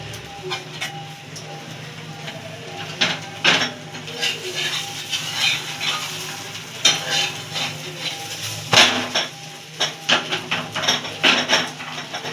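Paratha frying in a pan over medium heat while an egg roll is being made, with soft sizzling under repeated clinks and scrapes of a utensil against the pan, close and moderately loud.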